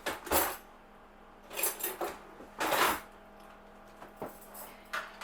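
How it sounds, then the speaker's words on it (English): Knife scraping vegan butter across the top of stuffed vegan, gluten-free bread, giving several short scratchy swipes with pauses between them. A faint clink of utensils comes in the quieter stretches. "I'm gonna spread some butter on top of it"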